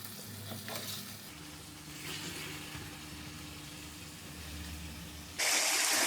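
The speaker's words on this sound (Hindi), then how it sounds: "अभी हम चिकन को ऑयल में मिक्स करेंगे और तब तक फ्राई करेंगे जब तक इसका कलर चेंज नहीं हो जाता।" Chicken frying in oil in a pan for chicken kadai, a soft continuous sizzle with occasional stirring scrapes, fairly faint, swelling into a louder hiss at the very end.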